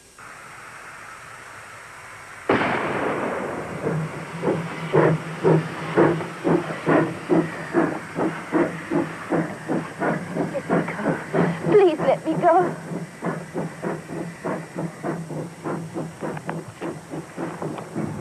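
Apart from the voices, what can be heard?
train starting to move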